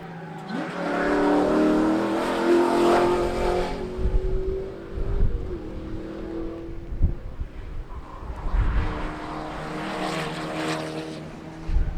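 A KE Ford Laser race car engine screams past at high revs during a Hampton Downs sprint, swelling loud then fading, and a second run roars through near the end.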